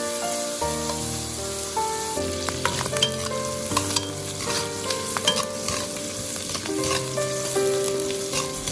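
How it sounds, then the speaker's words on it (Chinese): Small river prawns sizzle hard in a hot wok and are tossed in quick stir-frying strokes. A dense, constant frying hiss runs under repeated scraping clicks of the spatula. "将小河虾煎至定型，再快速的翻炒。"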